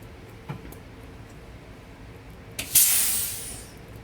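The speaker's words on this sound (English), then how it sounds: "Do you hear that sound that just kicked in? That's an air compressor." A ventilator's built-in air compressor starts up after a few faint ticks, bursting into a loud, bright rush of air that holds for about a second and then fades.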